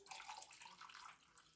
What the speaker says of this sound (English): fill this up with the warm water out the kettle.